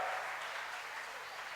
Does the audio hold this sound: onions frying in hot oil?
no